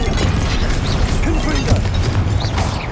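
A spell blast from Hogwarts Legacy lands as a loud, dense burst over continuous game effects and rumble, with no pause in the clamour.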